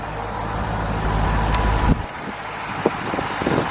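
A 2001 C5 Corvette engine idles with a low, steady rumble heard close up. It cuts off partway through, and a few quieter knocks and faint background noise follow.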